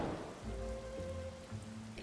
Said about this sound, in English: I suppose it's raining